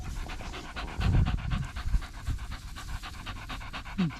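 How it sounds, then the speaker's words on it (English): Several dogs pant close by outdoors, giving quick, rhythmic breathy huffs that run steadily throughout with no talking. "Got all the dog around me now."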